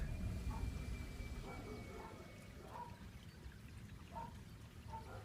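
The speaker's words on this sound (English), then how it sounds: "a babbling brook running down the side of a road whilst you're driving along" A babbling brook runs beside a road, heard from inside a moving Nissan Leaf electric car: steady gurgling, trickling water over a low road rumble.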